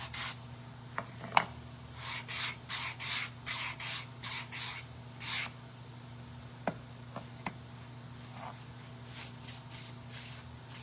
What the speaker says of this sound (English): we're gonna sand inside, give that distressed look as well